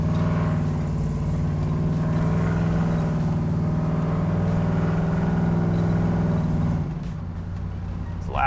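A 1966 Chevelle muscle car with a GM crate 383 stroker engine idles loud and lumpy with a deep, steady rumble. It drops and thins toward the end.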